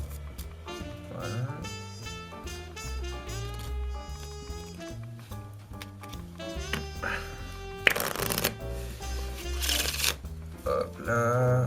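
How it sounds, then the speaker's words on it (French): A deck of playing cards is shuffled during a card magic trick, heard as brief riffling bursts mixed under steady music. "Peut-être mélanger un peu le petit paquet."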